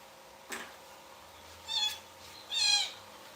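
A baby kitten meows three times: a short cry, then two longer, higher calls spaced about a second apart, close by over a quiet background.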